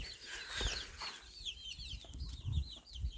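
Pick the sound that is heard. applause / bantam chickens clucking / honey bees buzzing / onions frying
bantam chickens clucking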